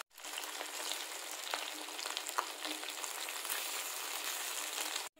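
Eel fish frying in hot oil gives a steady, dense crackling sizzle that runs unbroken for about five seconds with no voices over it.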